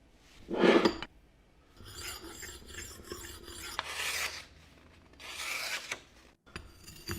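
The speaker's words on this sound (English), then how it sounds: "It's a tumbler rolling sharpener made by Tumbler USA." Tumbler rolling knife sharpener working a dull knife, giving several separate raspy grinding strokes, close and fairly quiet, with brief pauses and small clinks between passes.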